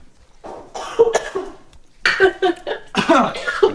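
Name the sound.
person coughing from the smell of sweets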